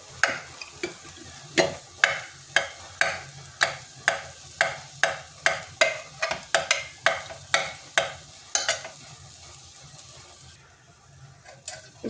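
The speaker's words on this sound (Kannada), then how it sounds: "ಆಲೂಗಡ್ಡೆ ಸಿಪ್ಪೆ ತೆಗೆದು ಬೇಯಿಸಿಟ್ಕೊಂಡಿದ್ದೀನಿ ಇವಾಗ ಇದನ್ನು ಇದೊಳಗೆ ಮ್ಯಾಶ್ ಮಾಡ್ಕೊಂಬಿಟ್ರೆ ಆಯಿತು" Peeled boiled potatoes mashed in a pan, a steady run of about seventeen sharp, squelching strokes roughly every half second, close and clear with no voices, fading to quiet at the end.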